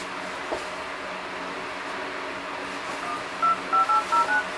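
Touch dialing on the keypad of a KingZone K1 Turbo 5.5-inch octa-core smartphone produces five short, evenly spaced DTMF tones over steady background hiss.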